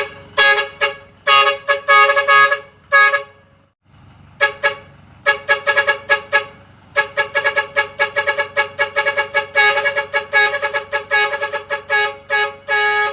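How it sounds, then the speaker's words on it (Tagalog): A stock vehicle horn module, in a sound check, blares in repeated bursts, short toots and longer stuttering runs with brief pauses, loud and close, no talking. "Pa-sound check na Andy yung busina natin."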